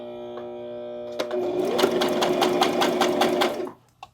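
Sewing machine running steadily for about two seconds, its needle thumping in a quick regular rhythm as fabric is fed by hand for a stitch across a sewing project, starting after a hum and stopping abruptly.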